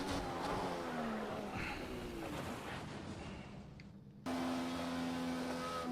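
An Indycar in a sim racing game at night on the Nordschleife, engine at full throttle then dropping as it brakes hard, with tyre noise through a continuous loud drone and a brief dip before the engine picks up again.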